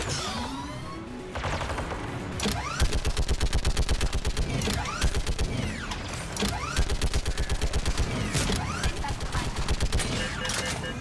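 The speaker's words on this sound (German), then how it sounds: "So, ich bemanne hier mal wieder das Geschütz." Mounted gun turret in Mass Effect 3 firing long rapid bursts, a fast mechanical rattle of shots with brief pauses between volleys, loud and close, preceded by a creaking mechanical startup.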